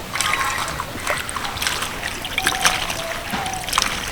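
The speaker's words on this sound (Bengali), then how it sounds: "তার জন্য কিন্তু দুবার ভালো করে ধুয়ে নিচ্ছি" Green chillies being washed by hand in a bowl of water for pickle, close splashing and sloshing with trickling water in an irregular rhythm, no voices.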